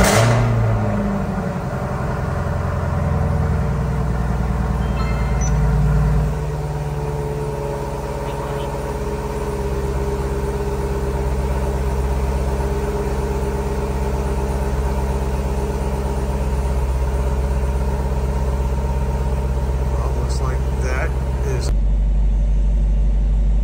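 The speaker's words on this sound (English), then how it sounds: "let me go ahead and start the car" Close car engine turning over and settling into a steady low idle rumble that holds for about twenty seconds, with a faint electronic chime partway through.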